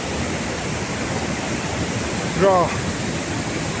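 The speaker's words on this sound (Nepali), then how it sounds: "हामी छौँ खुतखुते झरना" Khutkhute waterfall on the North ABC trail sends up a steady, broadband rush of falling water that fills the scene without pause, with a brief voice cutting in near the middle.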